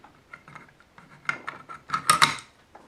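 Metal bolt of a Model 1928 Thompson submachine gun sliding into the receiver during reassembly, a run of light metallic clicks and scrapes that builds to a brighter sliding rattle near the end, close and fairly quiet.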